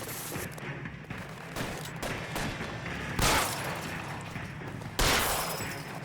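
Gunshots in the video game LA Noire, a few sharp cracks with bright noisy bursts, one near the middle and one near the end, heard over a steady background wash.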